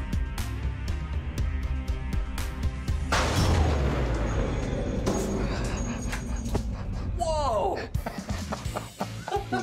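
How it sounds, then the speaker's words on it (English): An antique gun fired by pulling a string during a proof test goes off once with a single loud boom in an indoor room, ringing out afterward, with people talking before and after the shot. "So ear defenders on, and we'll fire the gun."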